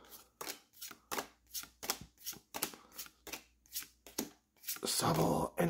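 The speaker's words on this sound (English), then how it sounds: "I'm here to just open Pokemon cards." Pokemon trading cards handled while packs are opened: about a dozen crisp, evenly spaced flicks and slaps of cards in a quick steady rhythm, close and fairly quiet, ending in a louder rustle of card and wrapper handling.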